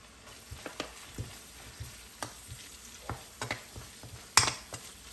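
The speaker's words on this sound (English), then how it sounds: "When it starts to sizzle, then you're going to add your coriander powder." Spices sizzle steadily in hot oil for Thai green curry, with soft crackles, while a utensil scrapes and taps the pan every so often, one sharper clack near the end.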